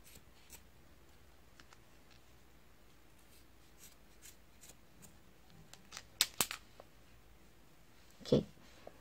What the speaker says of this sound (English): Sorry, my scissors is not sharp.